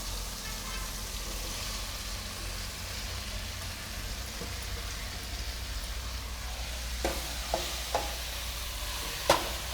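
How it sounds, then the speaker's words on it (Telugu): Okra frying on a high flame gives a steady low sizzle with soft stirring scrapes, then a few sharp utensil clinks toward the end, close-up and without talk. "జిగురు పోయేంత వరకు వేయించుకోవాలి. లో ఫ్లేమ్లో కాకుండా హై ఫ్లేమ్లోనే."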